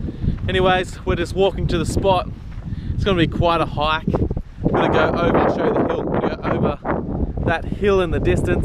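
Gusty wind buffets the microphone with low rumbling blasts while someone talks steadily throughout, outdoors while fishing for Murray cod at Copeton Dam.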